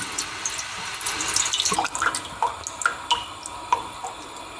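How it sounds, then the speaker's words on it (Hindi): Tap water running steadily into a cooking pan on a stove, filling it for boiling pasta, with splashing and a few distinct drips and plinks near the end; no talking. "पैन में खुला पानी ऐड करना है।"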